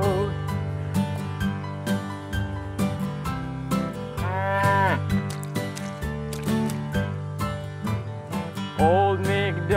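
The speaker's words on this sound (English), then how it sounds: "With a moo-moo here and a moo-moo there, here a moo, there a moo, everywhere a moo-moo." A cartoonish cow moo sound effect rises out of a bouncy Old MacDonald nursery song, with piano and sung melody continuing around it.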